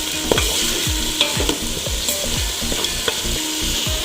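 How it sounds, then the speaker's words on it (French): Ginger, onion and garlic fry with a steady sizzle while a spoon scrapes and stirs through them in a pan, giving a run of regular, close stirring strokes over the hiss. "je file une cuillère de gingembre oignon et l'ail et je mélange de nouveau"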